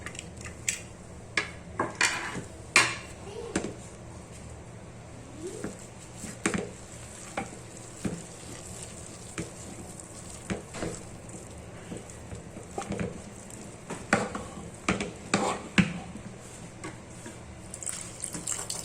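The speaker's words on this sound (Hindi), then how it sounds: "दाल बॉईल हो गई है, इसे हम मैश कर लेते हैं।" Boiled dal is mashed in a pot with a metal utensil: a steady run of scraping and sharp clinks against the pot, with soft wet squelching between the strikes.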